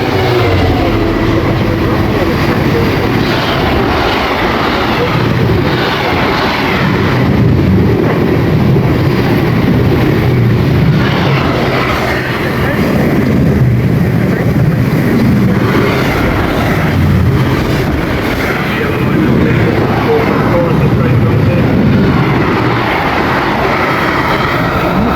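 Freightliner Class 66 diesel freight train rolling steadily through a station, a loud continuous rumble of engine and wagons with rhythmic wheel clatter and pulsing swells throughout, no talk.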